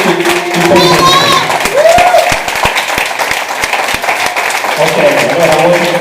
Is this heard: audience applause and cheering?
yes